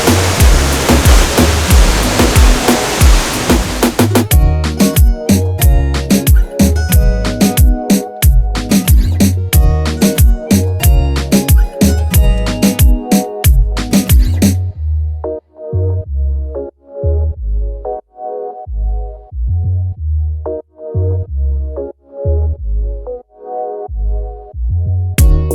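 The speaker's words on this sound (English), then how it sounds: "This waterfall is so cool." Jungle waterfall in Costa Rica roaring as a loud, steady rush of falling water, with heavy rhythmic bursts and a short quieter stretch.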